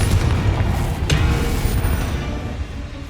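A deep, rumbling spell explosion from Bombarda or Confringo in the Hogwarts Legacy video game booms loudly, with one sharp crack in the middle and a heavy low rumble that slowly fades.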